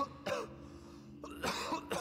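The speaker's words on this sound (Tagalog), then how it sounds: "napansin kong lumala ang ubo ng kuya ko" Two short, harsh coughs sound close by, separated by a brief quiet pause.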